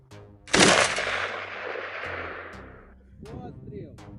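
A loud, sharp machine-gun shot from a ground robot cracks out and rings into a long echoing tail, followed by fainter distant pops and a voice speaking near the end.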